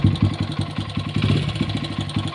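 A Honda XR100R motorcycle engine that will only run when bump started sputters and chugs in a rapid, uneven rhythm of loud, close firing pulses, with no talking over it.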